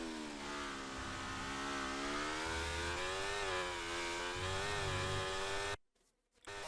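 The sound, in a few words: F1 car engine at full throttle, F1 24 video game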